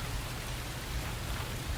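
Heavy rain falls during a storm, a dense, steady hiss of drops that fills the whole moment evenly, close and loud, with no voices.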